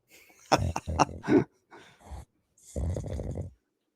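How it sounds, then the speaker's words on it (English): A man snores in loud, rough, grunting bursts with short pauses between them, close and harsh. "He's snoring, I guess, apparently."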